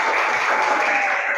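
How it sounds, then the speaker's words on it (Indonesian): A classroom audience gives a student group a brief burst of steady, close clapping. "Tepuk tangan untuk kelompoknya Auni ya"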